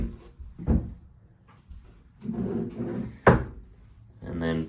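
Dovetail drawers on latching soft-close slides open and shut in a few dull, close knocks and slides, spread across a short stretch with some speech around them.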